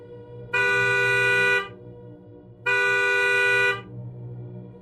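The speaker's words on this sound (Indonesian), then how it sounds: "klakson mobil berbunyi sendiri, panjang." Two long, loud blasts of a car horn, each about a second, separated by a short pause, sounding alone over a low background hum.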